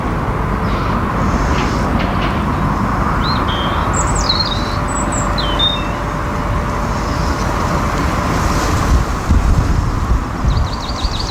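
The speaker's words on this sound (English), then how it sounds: "This wind is quite strong." Strong wind rushes steadily across a lake on a spring afternoon, a continuous broad roar with a few bird chirps scattered over it.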